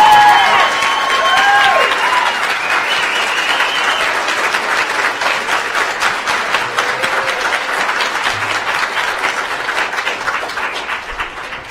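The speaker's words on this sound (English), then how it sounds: "Thank you for the applause" At a school board meeting, an audience breaks into applause and some cheering after public testimony, with a few whistles at the start and a steady crowd clapping that gradually thins.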